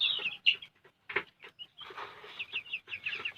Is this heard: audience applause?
no